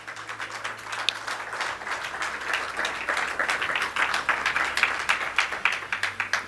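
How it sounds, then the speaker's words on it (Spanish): Congregation in church giving a round of applause, a thick continuous crowd clapping with dense rapid claps that swell and stay strong through the whole stretch. "Dele un aplauso al Señor"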